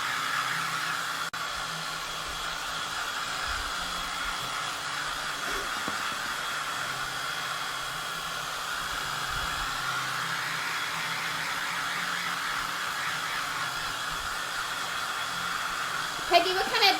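A hair dryer blows in a steady, continuous whoosh close by, drying freshly painted farmhouse Christmas decor; the airflow stays even throughout and briefly changes at the very end.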